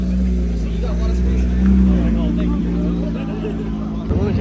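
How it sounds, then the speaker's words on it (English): Audi Spider RS sports car pulling away at a busy car show, its engine a steady low rumble throughout with crowd babble and talk around it. "right as the Spider RS is leaving"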